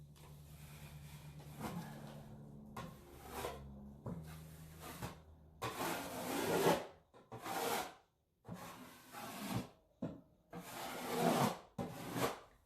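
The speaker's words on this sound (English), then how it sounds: "Anything extra you're scraping off now is going to save with sanding later on." Repeated rasping scrapes across a wooden surface, several long strokes with short pauses between, close by; a low hum sits underneath in the first half.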